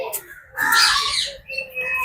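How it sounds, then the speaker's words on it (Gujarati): Parrots squawk in a zoo aviary at Kankaria in Ahmedabad, with harsh, close, bursting calls, the loudest about midway, alongside people talking nearby. "પોપટ જ છે ભાઈ આ બધા."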